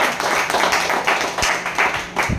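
An audience at a marketing plan meeting claps together in a short, dense burst, loud and steady for a couple of seconds, with no talk over it.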